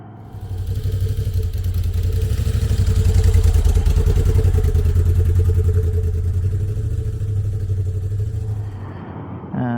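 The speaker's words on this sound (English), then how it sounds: "I've just come out for a ride on the bike" A motorcycle engine, likely a BSA, drones steadily during a ride, a loud close rumble that swells and eases, then fades out near the end.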